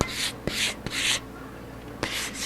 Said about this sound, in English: Alright, a little bit of sanding.